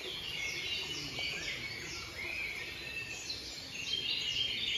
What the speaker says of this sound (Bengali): পর্যটকদেরকে মানসিকভাবে প্রশান্তি দেওয়ার জন্যই এই কৃত্রিম পাখির শব্দগুলো তৈরি করা হয়েছে।